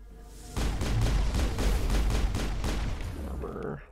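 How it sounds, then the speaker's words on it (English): Rapid gunfire and blasts from a firefight in the video game Mass Effect, a dense, loud barrage of overlapping shots and booms that starts abruptly after a half second and continues steadily to the end. "There's explosion."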